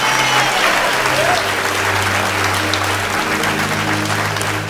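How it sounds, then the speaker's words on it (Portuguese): A church congregation breaks into sustained, loud applause that fills the room from start to finish, with a low musical drone running steadily underneath. "Vamos dar um aplauso ao Senhor de gratidão pela sua vida."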